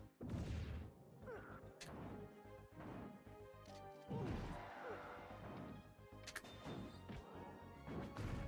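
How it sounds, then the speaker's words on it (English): A bomb blows up in the fighting game Super Smash Bros. Brawl. Loud crashing smashes and thuds repeat through the clip over busy game music and effects. "Bomb exploded."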